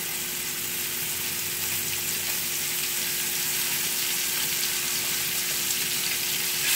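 Salmon fillets laid face down in a hot pan sizzle with a steady, broad crackle that holds evenly throughout, close and fairly loud, with no voices.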